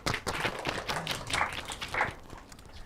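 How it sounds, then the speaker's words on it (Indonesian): A talk show audience applauds a guest with a short burst of moderately loud, scattered clapping that fades slightly toward the end. "Tepuk tangan dulu ya."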